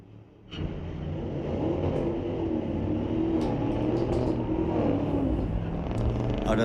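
A 2002 Chevrolet Silverado pickup launches at a street-legal drag strip: after a brief quiet start, the engine roar rises abruptly and holds as a sustained, fairly loud rumble with a whirring edge as it accelerates away.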